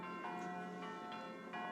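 Church bells ringing on Christmas morning, a sustained harmonic tone with fresh strikes recurring about every half second to second, steady and moderately loud with no talk over them.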